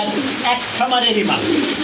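Pet pigeons kept for sale coo softly close by, warbling rolls under a man's speech.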